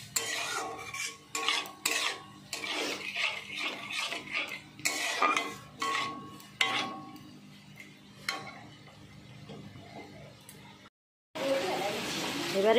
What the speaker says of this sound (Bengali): মশলাটা ভালো করে একসঙ্গে কষিয়ে নিচ্ছি